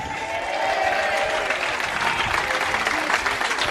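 Spectators in the stands applaud during a doubles pétanque championship final, Dordogne against Rhône, a sustained round of crowd clapping with some murmur and chatter mixed in, steady and fairly close throughout.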